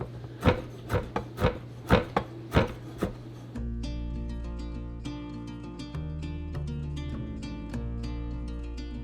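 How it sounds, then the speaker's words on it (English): A knife chops pork fat into tiny pieces for rendering lard, making about eight sharp, close thuds in the first few seconds before a steady mechanical hum takes over. "Cutting it into really teeny tiny pieces."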